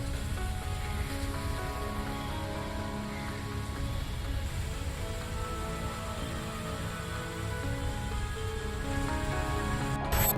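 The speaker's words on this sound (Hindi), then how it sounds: "जूनागढ़ में इस वक्त भारी बारिश के चलते स्थानीय नदियां उफान पर हैं।" Heavy monsoon rain pours down in Junagadh, Gujarat during flooding, a dense, unbroken roar of rainfall filling the scene without any voices.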